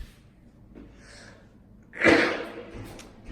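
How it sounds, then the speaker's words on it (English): A single sharp sneeze bursts out at close range during a job as an electrician, preceded by a faint sharp intake of breath, then a trailing exhale. "About to sneeze, excuse me."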